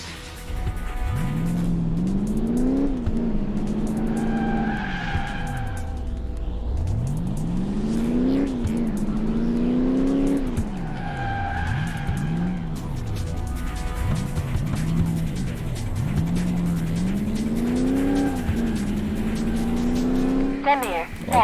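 A twin-turbo race car in Crash Time 2 drives hard, its engine note climbing through repeated revving gear pulls and dropping between shifts, loud and close, with voices speaking over it at times.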